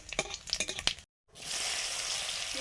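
Whole cumin, dried chilli and bay leaf hit hot oil with a sudden loud hiss after a short silence, settling into a steady close sizzle; brief clatter of stirring comes first.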